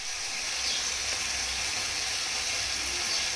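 Potatoes fry with spice powder in a pan, giving a continuous, even sizzle that hisses close by without a break and no voices over it.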